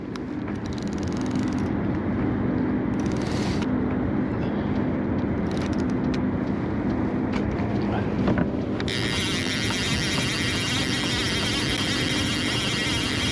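An outboard boat motor drones steadily while night trolling on the Fox River, a constant close engine hum mixed with wind buffeting the microphone, with no one talking.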